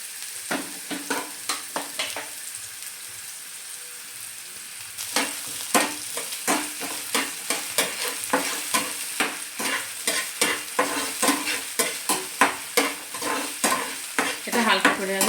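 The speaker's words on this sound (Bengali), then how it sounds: "এবার আমি এর মধ্যে প্রথমে পেঁয়াজটা দিয়ে দিচ্ছি, তারপরে ক্যাপসিকামটা দিয়ে দিচ্ছি" Onion and capsicum frying in hot oil over medium-high heat for a masala omelette, a constant sizzle under quick repeated spatula strokes against the pan, close and lively, with no talking.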